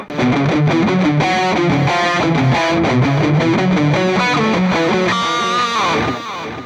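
Electric guitar through distortion and effects on a Valeton GP-5 multi-effects unit rings out loudly and steadily, the notes washed in reverb, with a fading tail at the end.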